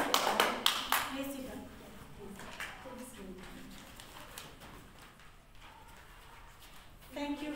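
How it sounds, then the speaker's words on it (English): A class of students claps for classmates in a short burst of sharp, close hand claps at the start, which quickly dies away as a teacher talks over a quiet room. "Clap for them."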